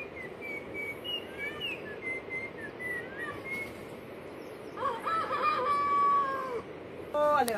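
Chickens and a rooster on a farm in rural Colombia: a steady bed of clucking and insect-like chirps, with a clear crow rising near the end over the open-air background.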